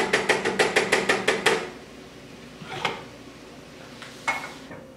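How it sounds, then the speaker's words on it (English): Casserole ingredients, including milk, mixed in a bowl for a beef, potato and cheese bake: a quick run of about ten rhythmic utensil clacks against the bowl, then a few scattered scrapes and knocks, fairly close with no talking. "So I'm just mixing this all together."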